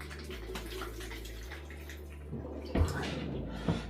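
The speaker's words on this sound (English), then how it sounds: "Let's get some water in there." Water poured onto potting compost substrate in a tarantula enclosure, a soft steady trickle with a low hum underneath, then a couple of louder splashes near the end.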